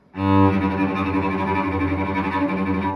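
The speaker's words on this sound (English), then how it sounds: "tremolo sounds a bit like tremble, which is often how I think of it, or shiver, and it is very, very fast strokes" Strings play a loud, rich sustained note with rapid shimmering bow strokes, a fast trembling tremolo that holds steady for about three seconds.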